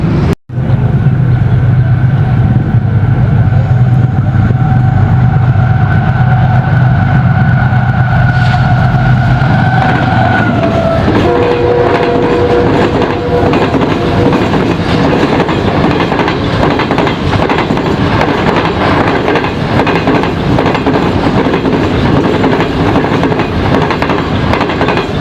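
The Kragram Express passenger train rolls past loud and close, a horn-like tone fading early, then a long steady rumble with rhythmic clickety-clack of wheels over rail joints for over twenty seconds.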